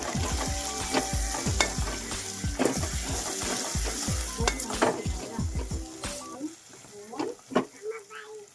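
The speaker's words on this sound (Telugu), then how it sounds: "తర్వాత అందులో పసుపు వేసి మంచిగా కలుపుకోవాలి" Turmeric is stirred into a frying curry of brinjal, potato and tomato, with a loud crackling sizzle and rapid rhythmic spoon scrapes for about six seconds. Quieter clinks and scattered taps follow.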